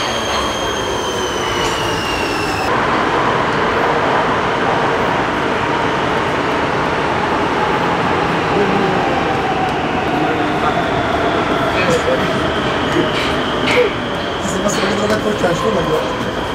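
Metro train riding along the track, a loud continuous rumble with wheel squeal and rattling carriage noise, with people talking inside the car.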